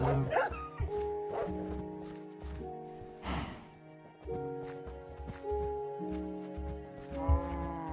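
Dogs in a video game let out a few short barks over a soft, melodic background tune, with quiet pauses between the yaps.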